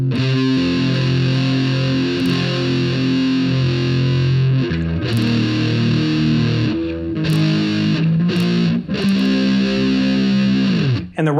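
Heavily distorted electric guitar plays chunky power chords in a steady driving rhythm, loud and alone with brief pauses between phrases.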